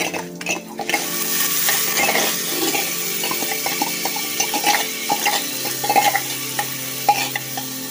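Washed rice tipped into hot ghee with whole spices, sizzling and frying steadily with repeated stirring scrapes and light utensil clinks close by, no voices.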